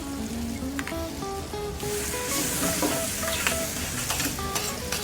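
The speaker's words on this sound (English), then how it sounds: "we'll fry all the ingredients thoroughly, making sure to cook them until the acidity is completely eliminated from the tomato by frying it in the pan" Grated fresh tomato frying with other ingredients in a paella pan for lobster paella, a dense sizzle that swells louder partway through, with occasional stirring scrapes.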